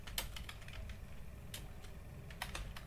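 Keys clatter as code is typed on a computer keyboard, quick bursts of close, crisp clicks in uneven clusters separated by short pauses, with no voice over them.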